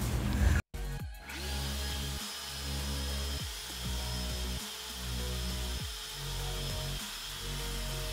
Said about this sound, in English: Got us a electric car dryer.